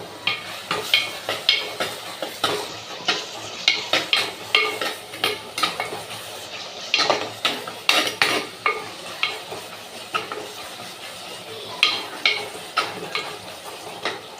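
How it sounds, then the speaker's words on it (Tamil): Tomatoes and onions sauté in a clay pot for a fish curry, with repeated scraping stirs and clinks of a utensil over a soft steady sizzle, close and busy throughout. "நல்லா தக்காளி வெங்காயம் எல்லாமே வதங்கிருச்சு நல்லா வதங்கட்டும்"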